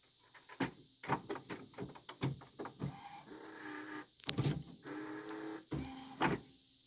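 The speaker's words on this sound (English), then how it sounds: "now it's printing out, getting ready to print out" A sublimation printer runs through a print job, giving off a close series of short mechanical whirs and clicks in irregular bursts, with a louder run of movement near the middle and no talking.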